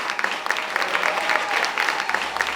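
Live audience at a comedy show applauding steadily, a dense wash of hand claps with scattered louder claps, sustained and fairly loud with no voices over it.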